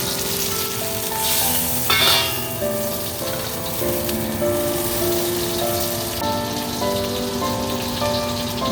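Teriyaki steak sizzles in a hot pan at home for hibachi-style cooking, a loud, steady crackle and hiss that stays close throughout with no talking.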